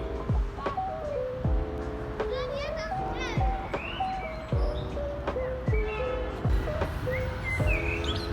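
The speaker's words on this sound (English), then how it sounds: "You have the birds singing, the sun shining down on your face" Birds sing in a city park in a roundabout garden in Tbilisi with fountains, bright repeated chirps and whistles carrying over children's voices and background chatter, at moderate level.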